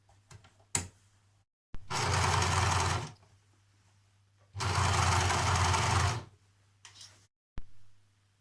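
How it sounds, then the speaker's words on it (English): An overlocker edge-finishes a trouser hem seam in two loud, close bursts of fast buzzing stitching, each lasting about a second and a half, separated by quiet pauses with a low hum and a few scattered clicks. "I'm going to overlock mine before I hand finish the hem."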